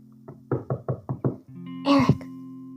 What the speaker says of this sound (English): Sometimes I knock on his wall.